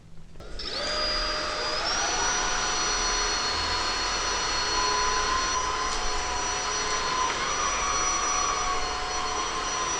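A Bosch Unlimited 7 cordless stick vacuum cleaner spins up and runs at a steady, moderate whine with a rising motor tone near the start, then holds an even level throughout.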